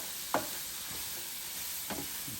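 Onions and mushrooms with seasoning are stirred in a Power XL electric cooker, giving a soft, steady sizzle with two or three spoon scrapes, fairly faint and without talking.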